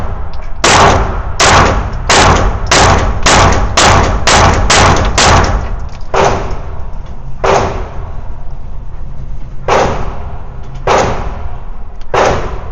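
Canik TTI Combat pistol firing: a rapid string of about nine sharp, loud shots, then slower single shots spaced a second or more apart, each with a booming outdoor echo.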